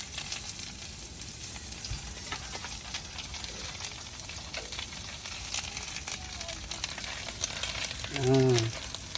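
Fish sizzles steadily in a hot pan for a seafood dish, a dense continuous frying crackle with faint stirring scrapes, ending with a brief louder burst of bubbling.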